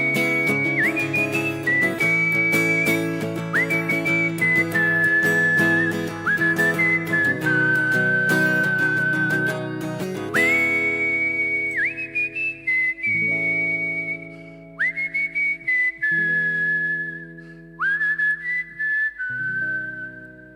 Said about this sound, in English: Nice whistling.